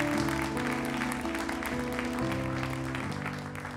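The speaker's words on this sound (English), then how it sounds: "Please don't clap for me, clap for her." Church congregation applauding during a Sunday sermon, steady dense clapping that holds through the whole stretch, with sustained organ or keyboard chords ringing underneath.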